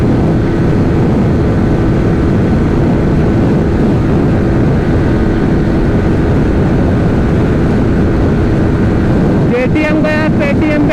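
KTM motorcycle engine held at the rev limiter, a loud continuous high-revving drone buffeted by wind noise, ending in a rapid stuttering burst of cut-outs near the end.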